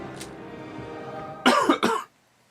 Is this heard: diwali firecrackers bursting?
no